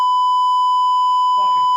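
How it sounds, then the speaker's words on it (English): A steady censor bleep tone holds without a break from start to finish, loud and even, with a voice cutting in near the end during a UFC 309 broadcast. "Yeah, put the beep."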